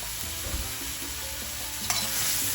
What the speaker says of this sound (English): saute these onions just a little bit to get them nice and crispy and soft at the same time